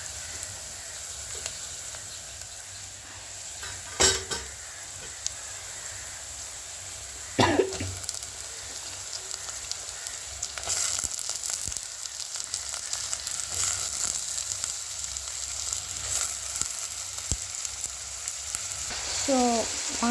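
Cut eggplant pieces frying in a pan for a home-style curry, a steady close sizzle and crackle with a few clattering drops and scrapes, no talking.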